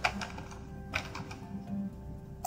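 Keys tapped on a computer keyboard, a short burst of light irregular clicks and soft thunks at close range over a faint steady hum, with no voice.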